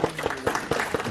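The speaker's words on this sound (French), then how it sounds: "on peut l'applaudir aussi. Oui, bravo." A small group claps in a brief, quiet patter of scattered hand claps, as if at an indoor gathering.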